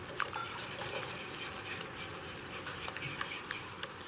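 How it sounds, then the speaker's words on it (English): Confectioner's sugar being whisked in a bowl, a continuous close rustling stir with light scraping and occasional small clicks of the whisk against the bowl. "Use a whisk."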